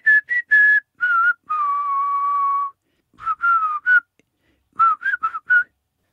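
A person whistles a melodic tune alone, short bright phrases and one long held note separated by brief pauses, clear and close with no talk.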